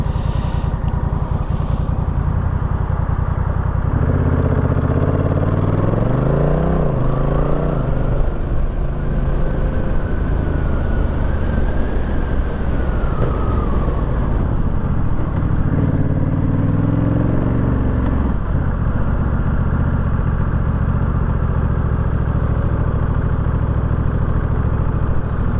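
A Honda Rebel 1100 DCT motorcycle engine idles high and steady, a loud close drone held for the whole stretch, with the pitch wavering and rising slightly a few times and no talking over it.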